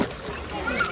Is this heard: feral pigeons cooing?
no